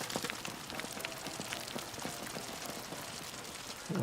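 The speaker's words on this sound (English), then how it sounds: "I love the sound of the rain here." Steady rain in the game Ghost of Yotei, a soft, even patter of drops hissing across surfaces, moderately quiet and continuous with no voices.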